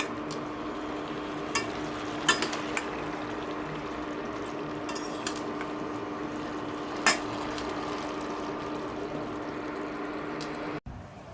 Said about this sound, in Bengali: এই যে তরকারিটা বসাইছি